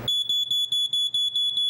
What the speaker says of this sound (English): it's the perfect time to change the battery in your smoke alarm